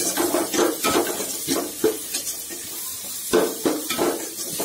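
Vegetables fry in a pan for potato kurma, a utensil clanking and scraping against the metal in a steady rhythm of knocks over a soft sizzle, close and moderately loud.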